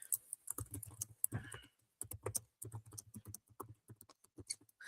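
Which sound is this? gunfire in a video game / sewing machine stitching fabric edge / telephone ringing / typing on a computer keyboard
typing on a computer keyboard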